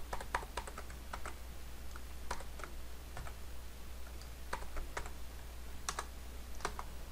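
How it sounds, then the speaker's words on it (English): Configuration commands typed on a computer keyboard for network switches, heard as quick bursts of sharp key clicks with short pauses between words over a steady low hum, close and moderately quiet with no talking. "On switch 5, we're going to go ahead and type in VTP mode of client"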